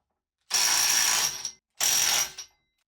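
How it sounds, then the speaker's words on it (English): A Makita 18V impact wrench fires two sharp hammering bursts, each about a second long, tightening a fastener at 381 newton meters, with a short pause between them and a close, loud metallic rattle. "all three impact wrenches handled it very quickly"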